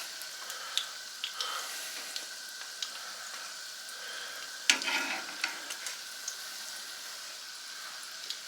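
Biscuit donuts fry in a pan of hot oil, giving a steady, moderately quiet sizzle and crackle with scattered pops and one louder burst partway through, and no talking.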